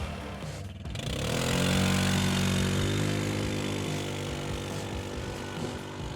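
Linhai Yamaha M200 ATV engine revving up on a top-speed run down a slight slope, a steady droning motor rising in pitch and holding, heard from nearby with no talk.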